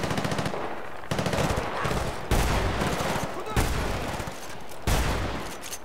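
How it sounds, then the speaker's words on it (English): Heavy weapon fire in the Battlefield Bad Company 2 video game, about five loud blasts spaced roughly a second apart, each one followed by a ringing tail, with dense rattling gunfire filling the gaps. "Shotgun."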